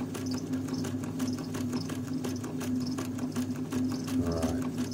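A Singer Model 527 sewing machine under repair stitches fabric with a fast, steady mechanical clatter and a constant motor hum, loud and close throughout.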